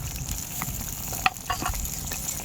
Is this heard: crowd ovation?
no